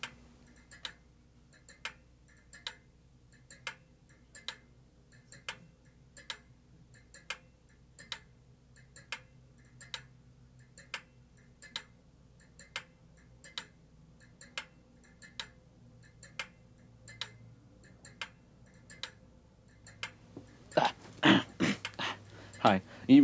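A clock ticking toward New Year's Eve midnight, crisp evenly spaced ticks about once a second repeating over twenty seconds, then a burst of louder voices and noise at the end.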